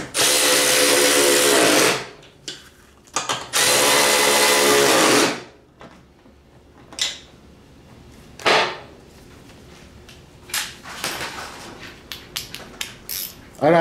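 A power tool whirs in two loud bursts as it tightens the blade bolts on a John Deere Z335e mower spindle, followed by quieter clinks and handling of parts and tools.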